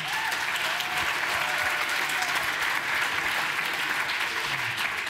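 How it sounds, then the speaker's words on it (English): A conference keynote audience applauds steadily and loudly for about five seconds, a dense wash of many hands clapping at close range with no voices standing out. "huge round of applause for Aaron."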